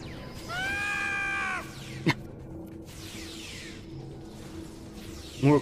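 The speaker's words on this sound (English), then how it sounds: "More Quark screams." A Star Trek Online game character, Quark, lets out a harmonic, wavering scream lasting about a second. It is followed by a short sharp pop and a final brief burst, all over a low game background hum.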